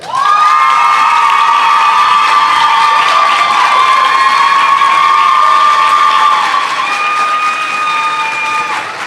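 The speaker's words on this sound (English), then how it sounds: "Please thank them with your applause." Commencement audience at Cottey College breaks into loud sustained applause and cheering, a continuous roar of clapping with whoops and shouts that holds steady before easing slightly.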